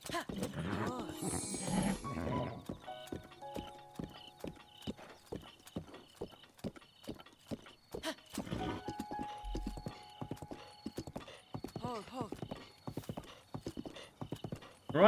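A horse in The Legend of Zelda: Breath of the Wild trots with steady, crisp clip-clop hoofbeats, neighing and whinnying at intervals, while a player talks over the game sounds.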